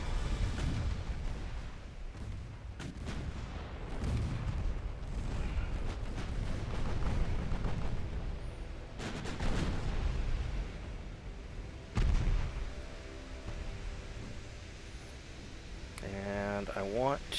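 Naval gunfire from warships in the game Ultimate Admiral Dreadnoughts, a series of heavy booms and explosive bursts spread irregularly across the clip over a low rumbling bed, with someone talking throughout.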